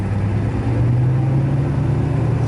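A car engine is brought up from idle to higher RPM while oil pressure is checked before reaching normal temperature, a loud, close, steady low rumble with a slight rise in pitch.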